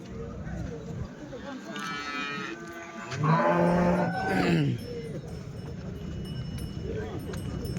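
Cows and calves moo loudly nearby at a Sunday cattle market in Chintamani, several long lowing calls over a busy background of crowd noise and shuffling animals.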